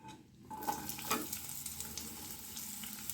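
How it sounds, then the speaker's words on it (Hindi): Sliced onion fries in a tablespoon of oil in a kadai, a steady close sizzle with soft stirring scrapes running throughout, no voices. "अब हम इसमें 1 टेबलस्पून ऑयल डालकर जो हमने एक प्याज काट कर रखा था उसको हम फ्राई कर देंगे।"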